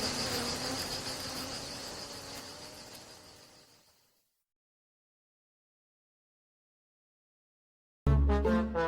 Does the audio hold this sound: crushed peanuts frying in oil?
no